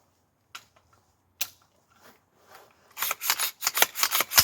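A new bolt carrier group goes into a Palmetto AR-10 rifle: a few sparse metallic clicks, then a quick close run of sharp sliding and clacking parts toward the end.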